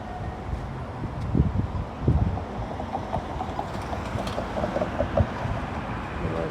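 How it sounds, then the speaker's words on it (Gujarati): Strong wind rushes and buffets a microphone outdoors in Melbourne, a loud rumbling gusting roar with uneven swells and no voices. "અત્યારે બહુ જ પવન આવે છે"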